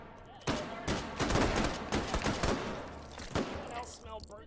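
Rapid bursts of M2-style rifle fire from a WWII-themed VR shooter, a dense sustained volley of close, loud shots with several short pauses and a final isolated crack.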